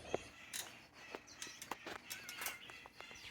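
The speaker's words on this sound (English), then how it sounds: "I don't know if you heard the birds too." Indoor pet birds chirp and call in short, sharp bursts scattered irregularly over a quiet room, moderately close.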